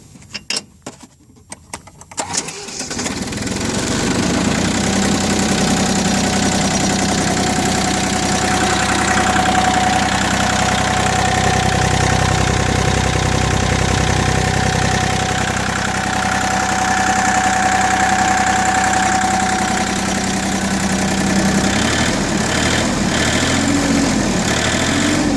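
An Iseki TU185 compact four-wheel-drive tractor engine cranks and catches after a brief start, then settles into a steady, loud diesel idle with a low knocking rumble that holds unchanged for the rest of the stretch.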